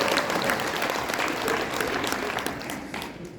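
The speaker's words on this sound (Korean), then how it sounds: "박수 해주시고." A seminar audience claps together in a dense, even burst of applause that fades slightly toward the end, heard on its own without speech.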